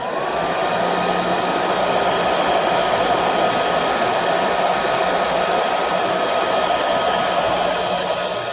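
Loud, steady roar of a heat tool blowing hot air onto a polymer clay miniature chair, a constant close whoosh with a thin tonal whine and no break.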